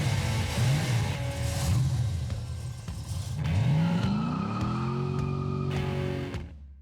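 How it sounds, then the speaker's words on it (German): An American V8 engine from a 1960s–70s muscle car revs hard in repeated rising pulls with a loud, throaty burble. The pitch climbs each time before the sound cuts off abruptly at the end. "Der dreckige Sound amerikanischer Hubraummonster der 60er und 70er Jahre ist bis heute für den Kult rund um den V8 verantwortlich."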